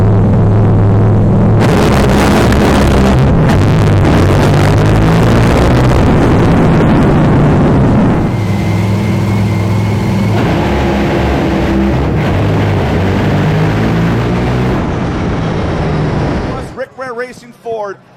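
Top fuel dragsters launching and racing down a drag strip at an NHRA Gatornationals event, a massive continuous engine roar that swells and fades, with a race announcer talking over it.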